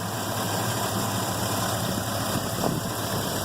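An LS-swapped Chevrolet Tahoe with a Borla Pro XS muffler idles steadily and fairly quietly, a smooth low engine rumble recorded up close with no talking.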